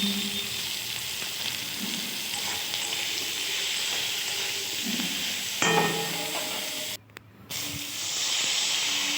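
Tomato with salt and turmeric frying in a pan, a steady close sizzle and hiss that runs throughout, with a few soft clinks and a brief dip in the noise near the end.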